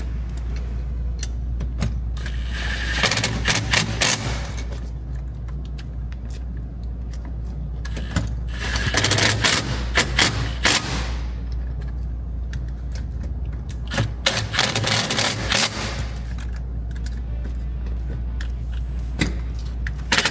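A ratchet with a 1/2-inch (13 mm) socket tightens 5/16 seat bolts on electric seat sliders in a Can-Am Maverick, giving three separate bursts of rapid, close clicking with quieter handling sounds between them.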